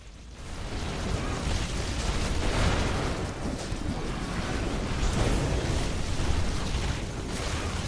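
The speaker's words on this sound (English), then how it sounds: "One of our buildings has been destroyed." Destruction of a base building in The Riftbreaker, a sci-fi base-building game, with a continuous rumbling blast of game explosions and debris filling the whole stretch at steady loudness.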